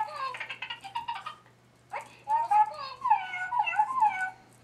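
A squeaky toy gives off high, wavering mews much like a kitten, repeated in short bursts with a low steady hum underneath.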